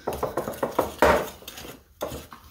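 Rhubarb cake batter being mixed in a bowl, a utensil scraping and knocking against the sides in quick repeated strokes, close and fairly quiet, with no speech.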